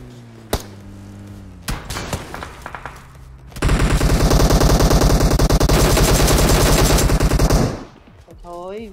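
Sustained rapid machine-gun fire from a DP-28 in PUBG Mobile, a dense burst of several seconds preceded by scattered single shots and clatter, loud and close.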